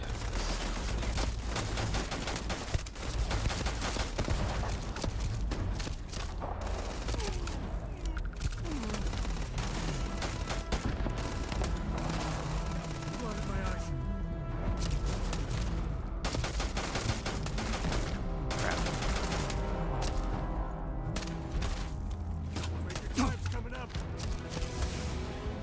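Dense, continuous rifle gunfire in the video game Starfield during a fight with a turret, rapid shots and impacts layered densely through the whole stretch, loud and close, with a voice talking over it.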